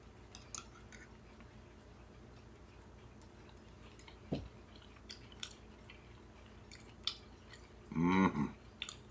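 Someone chewing a five-year-old freeze-dried meal eaten from a jar, with soft crunches and small clicks scattered through a quiet room and a brief louder mouth sound near the end.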